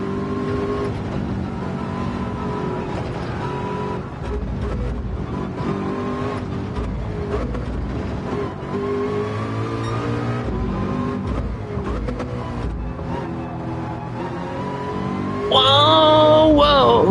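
A race car engine in an online daily racing video game drones steadily and loudly, with shifting revs, a passing roar and a sharp surge near the end, no talking.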